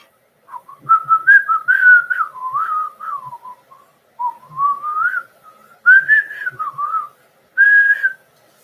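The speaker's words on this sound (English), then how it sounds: "Lang dubbed Beckett's whistling." Dubbed whistling of a musical theme from the 1931 film M, a clear solo melody whistled in short phrases with brief pauses, close and prominent, with no talk.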